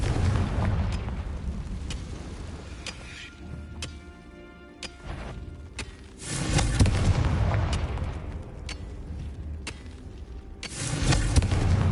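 Confringo blasting spells explode in Hogwarts Legacy, a series of loud booming blasts and sharp cracks with a heavy burst of rumbling noise partway through, and no talk.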